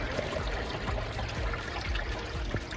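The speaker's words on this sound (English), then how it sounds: "there's the water. And you can hear it like going under my feet" Quiet water trickles and gurgles steadily close by, a soft continuous babble with faint irregular splashes, no talking.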